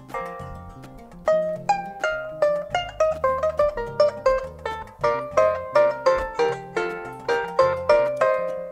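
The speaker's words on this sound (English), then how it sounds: "So this is adungu, a simple instrument as you see, skin and wood" Plucked strings of an adungu, a harp of skin and wood, ring out in a lively, repeating melody of bright notes over a low bass pattern, each pluck decaying quickly.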